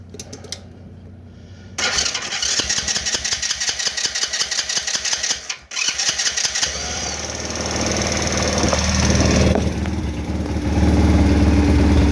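A Lifan 125cc engine on a Baja minibike cranks, catches and runs, first a rapid rattling putter at close range, then settling into a louder, steady drone that swells as it revs.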